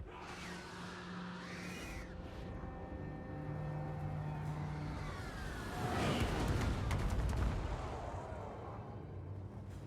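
Great cannon artillery fires in the Total War: Warhammer 3 video game, a heavy booming blast with rumbling aftermath during a large battle, preceded by a steady drone of battlefield noise.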